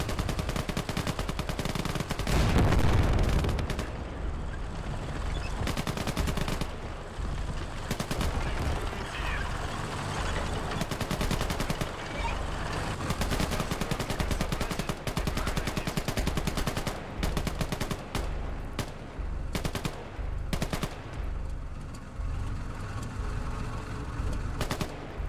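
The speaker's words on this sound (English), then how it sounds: "I think all they've got is machine guns" Machine gun fire in the WWII strategy game Call to Arms Gates of Hell: Ostfront, Soviet versus German battle, rattles in loud, rapid bursts almost continuously, with a heavier booming blast early on and no talking over it.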